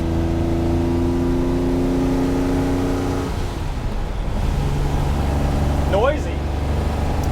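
Loud, steady engine drone fills the cabin of a car with much of its sound deadening removed, a constant low rumble with a deep hum lasting throughout and a brief high squeak near the end.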